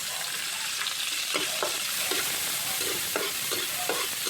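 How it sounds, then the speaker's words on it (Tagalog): Garlic and onion sautéing in a pan give a steady, close sizzle broken by repeated scraping stirs at an irregular rhythm, with no talking. "Gisa na tayo ang bawang, sibuyas."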